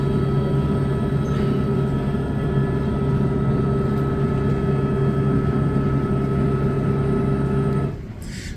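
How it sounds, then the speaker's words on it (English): A patrol helicopter circles low over a wooded area in McAllen during a police pursuit, its engine and rotor giving a loud, steady drone with a constant hum that holds for most of the clip, then drops away near the end. "There's the other helicopter."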